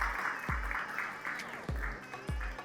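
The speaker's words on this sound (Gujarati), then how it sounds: "જોરદાર તાળીઓ થઈ જાય" An audience at a game show claps steadily for a winner, fairly faint and unbroken, while a host's voice speaks over it and heavy low thumps cut in repeatedly.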